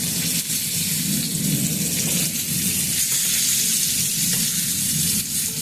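Pointed gourd pieces frying on high flame, a dense, loud, continuous roar of sizzling oil with a low rumbling undertone and a few faint clicks, no talking.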